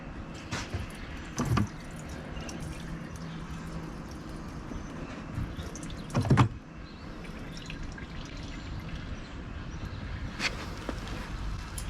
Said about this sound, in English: let me see if I got some fuel to pour down in this thing